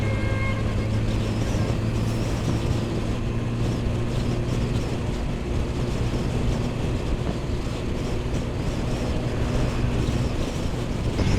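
Constant roaring rumble of a motorcycle moving at speed on the Dhaka–Noakhali highway near Comilla, heavy wind buffeting the microphone throughout, loud and unbroken.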